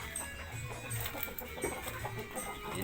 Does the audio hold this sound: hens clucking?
yes